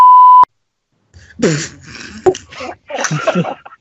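A single steady censor bleep tone sounds briefly at the start, then cuts to silence before people begin talking and laughing.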